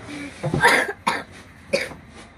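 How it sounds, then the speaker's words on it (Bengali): A person on a seaside trip coughs three times in quick succession, close and fairly loud, with a rough throat-clearing quality and short pauses between the coughs. "ঘুরতে যাওয়ার অনেক কাশি"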